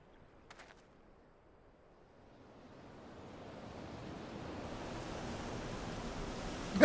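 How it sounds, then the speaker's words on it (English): Wind blowing in Final Fantasy XIV: a soft, hollow rush that starts from near silence, swells steadily into a broad, loud gust, and keeps building to a sharp peak at the very end. "All of a sudden the wind is starting to blow."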